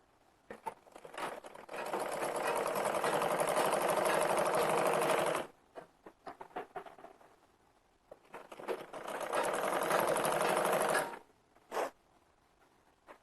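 Sewing machine stitching the corners of a Rajasthani kurti: two long steady runs of whirring motor and needle, each several seconds, separated by short clicks and handling of fabric, close and fairly loud.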